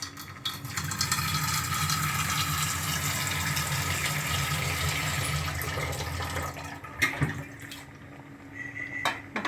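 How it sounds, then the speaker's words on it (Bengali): Water poured into a cooking pot on the stove during a home recipe, a steady rushing, splashing pour that runs for several seconds with sizzling underneath, then tapers off into a few clinks near the end. "জল দিয়ে দিলাম।"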